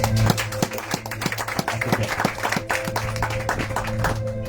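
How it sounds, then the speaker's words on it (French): A congregation applauds in acclaim of the Lord during a church service, steady rhythmic clapping filling the room over a sustained low musical drone. "On acclame le Seigneur pour sa parole"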